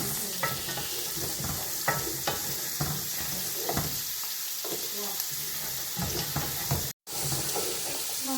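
Onions sautéing in a pan for a sauce, a busy close sizzle with repeated scraping stirs, broken by one brief dropout of silence near the end.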